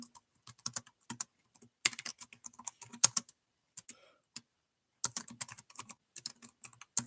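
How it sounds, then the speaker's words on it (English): Fingers type on a computer keyboard in irregular bursts of crisp, close key clicks, with short pauses between phrases and no talking. "So I'm going to type it right in here."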